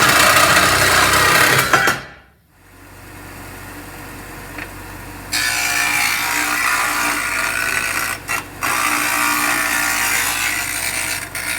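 Power saw cutting wood pieces in half, a harsh buzzing whine that drops away briefly, then resumes as a steady loud cut with short dips, no talk.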